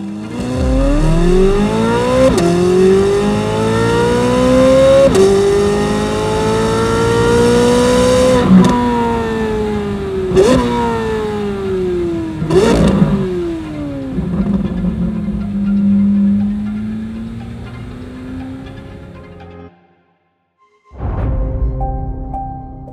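A 2023 Chevrolet Corvette Z06 of the C8 generation, engine rising and falling through loud, sustained revs and high-pitched wails. A brief silence near the end is followed by another sharp rev.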